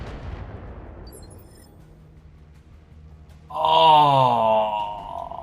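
Mortar fire in the video game BattleTech: a booming impact fades into quiet, then a loud, drawn-out whining shell sound rises and holds before trailing off.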